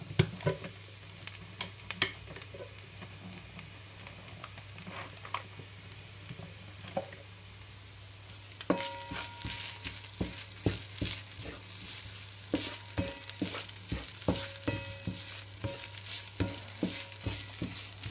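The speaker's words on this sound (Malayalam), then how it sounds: "ഇനി നമുക്ക് നന്നായിട്ടൊന്ന് മിക്സാക്കി കൊടുക്കാം." Snack mixture with ghee stirred in a pan on the stove, faint steady sizzling under irregular scraping and clicking spoon strokes that grow busier in the second half, with no voices.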